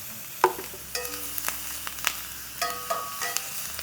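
Onions toasting in oil in a pan give a quiet background sizzle, broken by several clinking, ringing utensil taps against the cookware.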